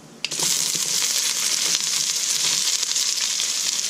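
A red onion drops into a hot pan for a Jaffna crab curry and bursts into loud, steady sizzling and frying that carries on without a break after a brief clatter at the start.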